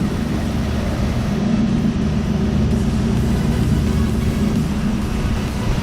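A Daikin VRV unit motor running on test, giving a steady low mechanical hum and drone that holds at an even level throughout, close and continuous with no talk.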